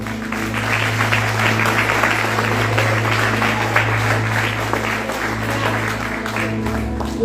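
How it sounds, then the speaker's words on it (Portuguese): Congregation applause at a church service, a broad continuous roar of clapping with crowd noise and a low steady hum underneath, fairly loud throughout. "Aplauda o Senhor."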